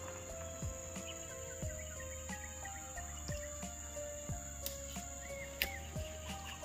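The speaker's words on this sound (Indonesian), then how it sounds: "Ni, jangkrik saudara ya ni." Crickets chirp in a steady high-pitched drone throughout an outdoor fishing spot, with faint bird calls and occasional soft knocks nearby.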